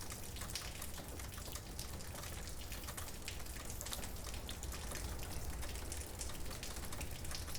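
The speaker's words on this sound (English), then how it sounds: "to the sound of the rain outside" Steady rain patters continuously at a campsite near Abergavenny in the Brecon Beacons, Wales, a dense, even hiss of drops with no pauses or voices, like a downpour heard from inside a camping pod.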